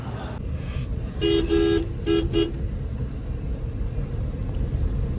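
A car horn toots outside in a few short bursts, a longer blast then two quick ones, over steady engine rumble and background noise.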